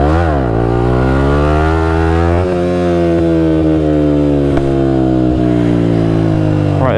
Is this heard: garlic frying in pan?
no